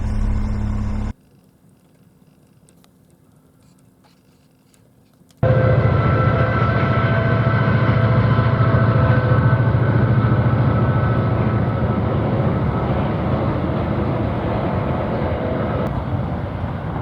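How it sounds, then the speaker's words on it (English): After a brief quiet stretch, a loud, sustained low rumble and hum rises suddenly and holds steady as a heavy train rolls past close by on the rail line at Kingoonya. "Other than the rail line, which is quite busy, and yeah, a few trains during the night"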